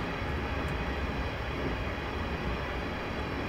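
A passenger train rumbles past in Train Simulator 2015 on the West Coast Main Line, a class 350 unit's steady, loud broadband roar and low rail rumble holding without a break and no voices over it.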